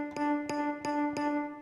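Four evenly spaced bell-like tine strikes from an electric piano plugin ring out over a sustained tone, bright and close, played alone.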